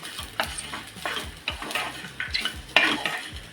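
Spices and cloves stir-fried in a pan for a crab curry, a spoon scraping and knocking in repeated strokes over a soft steady sizzle, close and clear with no voices.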